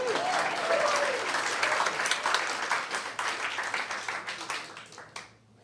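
Audience applause at a Voices for Vista 2026 event, steady broad clapping from a crowd that fades out near the end.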